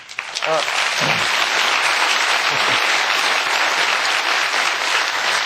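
A studio audience at a Los Angeles talk show bursts into loud, close applause after a brief voice at the start, the dense clapping then carrying on steadily to the end.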